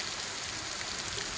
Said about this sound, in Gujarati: જબરજસ્ત વરસાદ પડ્યો પણ જઈ ધાર ખેંચતો નથી એવો વરસાદ પડે